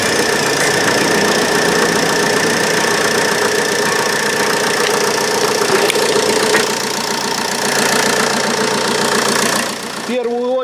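A Ford C-Max 1.8 TDCi diesel engine starts and settles into a steady, loud idle with a rough, knocking diesel clatter and constant mechanical hum that continues almost to the end.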